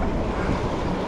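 River rapids on the New River Gorge rush in a dense, loud, continuous roar of churning whitewater, broadband and steady with no voices present.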